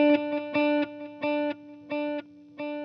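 A TC Electronic Triple Delay pattern on guitar, played at a slower rate, so a single sustained tone pulses in evenly spaced repeats about every two-thirds of a second, clean and unaccompanied.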